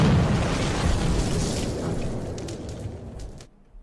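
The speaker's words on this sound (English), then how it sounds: "Yes, you heard a explosion" A loud, broad explosion roars at the start and rumbles on for several seconds, slowly decaying before cutting off abruptly into near silence.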